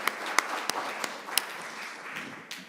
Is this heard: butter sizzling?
no